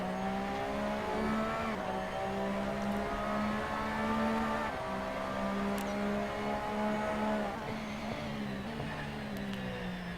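Onboard a Porsche 911 RSR race car lapping the Nurburgring, the engine drones loud and steady with rising and falling pitch through gear changes and throttle lifts, continuous for the whole stretch.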